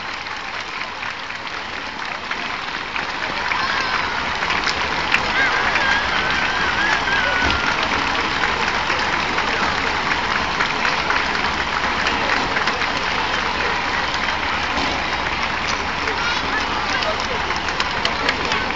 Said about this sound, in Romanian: Merită aplauze.